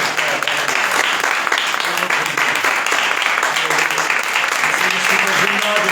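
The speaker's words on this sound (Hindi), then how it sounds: "आइए जोरदार ताली बजाएंगे कुरान के साथ।" A crowd at a gospel gathering breaks into loud, sustained applause, dense and continuous throughout with no pause, filling the room at close range.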